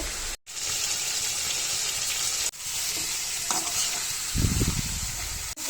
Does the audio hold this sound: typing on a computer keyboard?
no